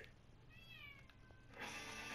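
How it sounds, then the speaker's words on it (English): A pet cat outside a door gives a couple of faint, drawn-out meows through steady background noise, followed by a louder burst of hiss-like noise. "Oh, my cat wants in so badly."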